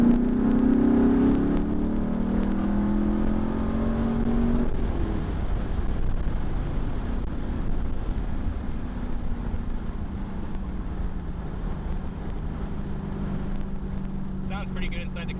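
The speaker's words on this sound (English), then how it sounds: "It's 3rd gear at 3000 RPM. I'm just gonna stab it." A 6th-generation Camaro with an MBRP axle-back exhaust roars as it accelerates hard from 3000 RPM in third gear, a deep exhaust rumble rising in pitch, heard steadily from inside the cabin with no talking.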